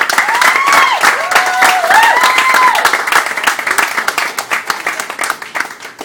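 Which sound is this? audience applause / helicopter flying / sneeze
audience applause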